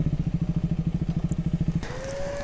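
Sports motorcycle, a KTM RC 390 or Yamaha R15 V4, its engine pulsing in a rapid, even throb close by, then shifting to a smoother, higher rising whine as it accelerates.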